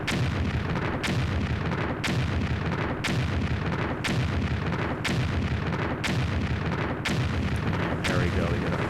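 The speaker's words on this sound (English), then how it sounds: "let's give this an explosions test" Explosions go off in a Disney Infinity 3.0 game, about one loud blast each second for nine seconds, each sharp burst followed by a rumbling decay over constant low noise.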